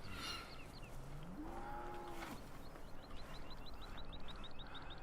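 A cow lets out a long, rising moo in an open meadow on a farm, moderately distant, while birds chirp repeatedly in the background and wind or ambient noise fills the scene.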